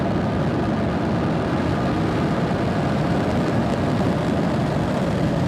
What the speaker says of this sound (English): Ignition, engines full power, and liftoff.